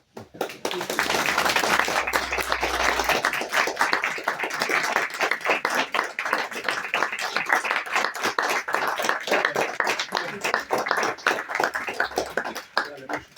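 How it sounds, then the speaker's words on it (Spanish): Audience applause at a book presentation, sustained dense clapping from a crowd lasting many seconds, loud and close, gradually thinning toward the end. "yo os pido un primer aplauso para el jefe."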